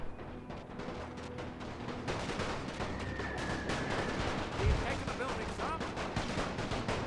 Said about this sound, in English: Most of the shots are hitting the hill, and the engineers are shooting our own troops